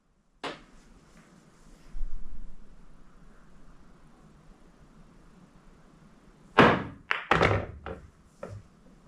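A massé pool shot with heavy left spin and a little bottom, the cue ball curving around to pocket the 8-ball: a sharp cue strike, then a few close, loud clacks and knocks of balls and pocket in quick succession.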